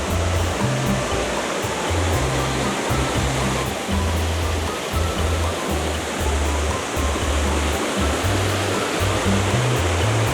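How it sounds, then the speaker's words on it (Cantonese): A waterfall roars right beside a walkway, heard up close as a loud, continuous rushing wash of falling water, with bursts of low wind rumble buffeting against it throughout. "呢度咧就有個位可以行入去，近距離影呢條瀑布啊"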